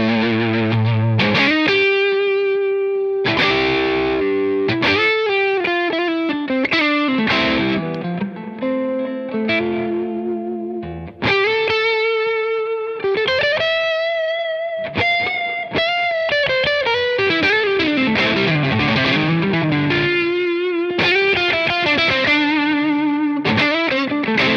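Electric guitar through a Catalinbread fuzz/overdrive pedal with the mids knob being adjusted, loud, gritty sustained notes and chords played alone, with the tone shifting as the midrange changes.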